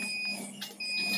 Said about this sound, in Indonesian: Alarm berbunyi dikarenakan kelembapan